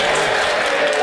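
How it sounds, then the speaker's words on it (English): MPs in the House of Commons clapping, a dense, steady wash of applause from many hands that fills the whole moment at close range and fairly loud, with voices mixed into the crowd noise. "you ought to be embarrassed by clapping"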